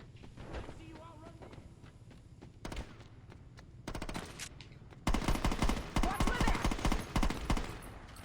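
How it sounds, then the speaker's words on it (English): Short bursts of gunfire in Saints Row, rapid automatic volleys growing louder and denser toward the end, with talk between bursts. "Shooting short bursts"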